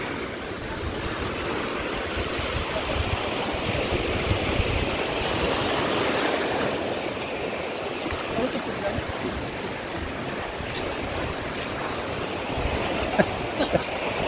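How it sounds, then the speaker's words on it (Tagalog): Strong waves crash and water rushes in a loud, continuous roar that surges and churns for the whole stretch, with voices faintly audible beneath it. "lakas ng alon"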